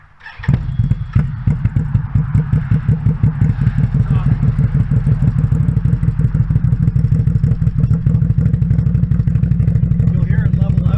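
Motorcycle fitted with an aftermarket exhaust idling as it warms up, giving a loud, steady, rapidly pulsing rumble close by that runs for the whole stretch, with a few thumps at the start.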